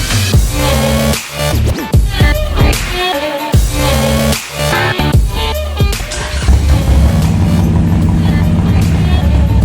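Harley-Davidson Sportster motorcycle riding with a Barnett extra plate clutch kit and fresh fluids, the engine loud and close, rising and falling through gear changes before settling into a steady roar.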